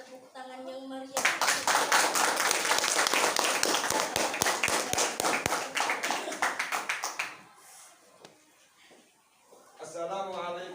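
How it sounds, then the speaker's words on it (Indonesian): A class audience at a school learning session claps loudly and steadily for several seconds, the clapping thinning out before a voice speaks at the start and end. "mari kita beri tepuk tangan yang meriah"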